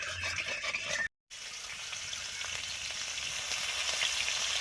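Panch phoron spices, a mix of fenugreek, nigella and fennel seeds, fry in hot oil for a pointed gourd stuffing, a steady close sizzle with one abrupt brief gap near the start.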